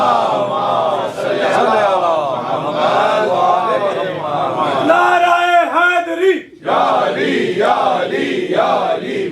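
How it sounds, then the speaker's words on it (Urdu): A large gathering at a religious majlis chants slogans in unison, loud massed voices rising in rhythmic waves, with a brief drop near the end before the chanting surges back. "نعرے"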